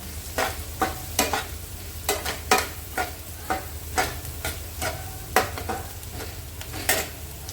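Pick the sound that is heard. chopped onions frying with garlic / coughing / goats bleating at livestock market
chopped onions frying with garlic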